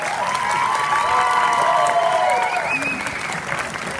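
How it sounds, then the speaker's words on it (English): Steady applause from an audience at a resort entertainment show in Bodrum, loud and sustained throughout, with cheers and children's voices rising above the clapping. "So, what big applause for Miss Sky, please"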